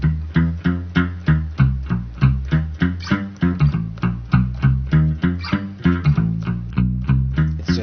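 Guitar played through a pitch-shifting harmonizer pedal fully wet, tracking down to a lower octave; a quick run of punchy plucked notes in steady rhythm, close and alone.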